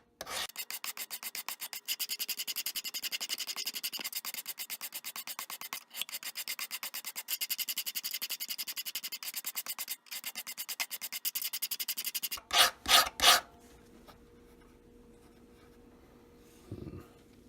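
A hand file is pushed over steel to flatten a knife blank, giving rapid rhythmic rasping strokes in long steady runs with brief pauses. A few louder scrapes follow before it goes quiet.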